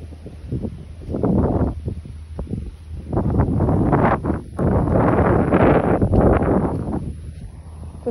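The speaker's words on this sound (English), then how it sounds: "so windy" Strong wind at Changi beach buffets the microphone in loud, roaring gusts that rise and fall, with brief lulls between them.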